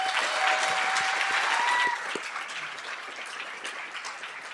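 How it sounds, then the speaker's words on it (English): Honorees at a 2023 Salute to Education ceremony for junior high and high schools receive a round of audience applause. It starts full and loud, then thins to scattered clapping after about two seconds. "one more round of applause for all of our honorees"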